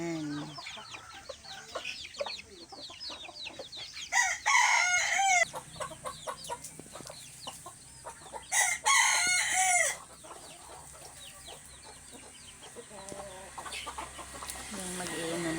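Plump pet chickens cluck busily close by, while a rooster crows loudly twice in long, strained calls over the steady background of hen chatter.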